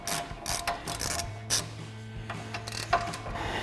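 A 1/2 inch drive ratchet with a 15 mm socket clicks as it loosens a caliper bracket bolt on a 1999-2004 Mustang, giving close, faint bursts of rapid pawl ratcheting with short pauses between strokes.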